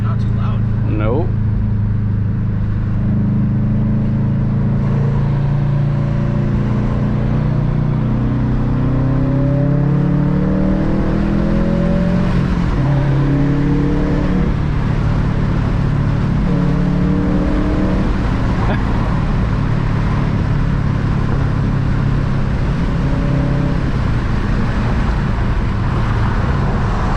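Engine of a Stage 1 2018 Subaru STI cruising in sixth gear at about 60 mph, a steady low drone with road and cabin noise throughout, while people talk over it.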